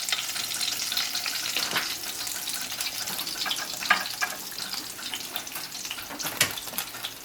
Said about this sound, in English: I'm going to just add a little more oil so we can get a darker sear this time.